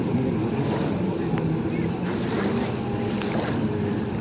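Spec class jet skis racing on open water drone at a distance, their engines blending into steady wind and water noise for a few seconds.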